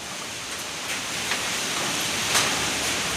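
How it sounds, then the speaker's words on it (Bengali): Rain falls steadily during a storm, forming a broad, even hiss with slight swells and no voices across a few seconds. "আর খুব সুন্দর বৃষ্টি, সুন্দর তুফান, একদম ঝড় নিয়ে আসছে।"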